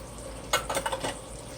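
Canned tomatoes are poured into a pot of simmering chili, giving a short series of wet plops and a sloshing splash over a soft steady sizzle, with no talk.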